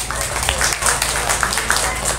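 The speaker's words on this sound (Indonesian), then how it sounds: "Tepuk tangan dulu." Teachers at a TPQ workshop in Pare give a round of applause, a thick, continuous patter of many hands heard close and fairly loud, with voices talking over it.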